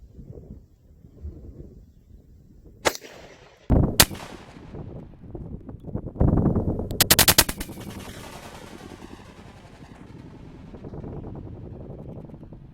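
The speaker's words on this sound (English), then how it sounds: "So I'm going to take one shot at each of the remaining grenades, the pineapple and the lemon" 7.62x39 rifle shots fired at a pineapple and a lemon grenade: a few sharp, loud cracks spaced seconds apart, each followed by a rolling outdoor echo and wind rumble.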